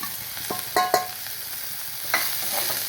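Chopped leaves and curry leaves are stirred in a hot pan, a soft sizzle under a few sharp clattering scrapes of the spoon, close and fairly quiet, no speech.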